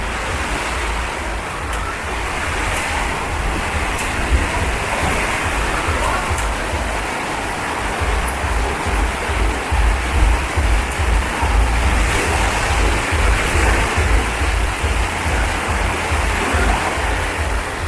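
Strong wind roars steadily outdoors near a squash harvest, a constant loud rushing with low buffeting against the microphone throughout.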